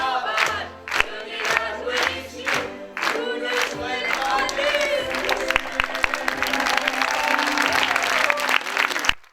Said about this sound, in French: les comédiens sont acclamés par un public conquis